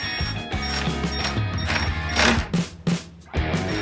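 A ratchet wrench turns a bolt on a bike, giving rapid close clicking bursts in uneven runs with brief pauses between strokes.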